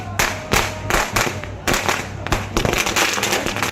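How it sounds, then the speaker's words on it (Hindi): Fireworks go off near the clock tower in Ratangarh market during a BJP Parivartan Sankalp Yatra rally, a loud, close series of sharp crackling bursts in quick succession. "घंटाघर के पास आतिशबाजी की जा रही है"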